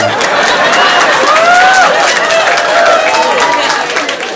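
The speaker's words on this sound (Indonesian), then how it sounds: "Nggak usah tepuk tangan" Audience applause at an Indonesian Islamic sermon gathering: a dense, steady wash of crowd clapping with murmuring voices that holds for several seconds and thins slightly toward the end.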